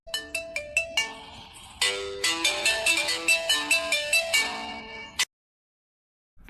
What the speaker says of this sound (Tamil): என்ன திடீர்னு ஆதிரா ஃபோன் பண்ணிட்டு இருக்கா?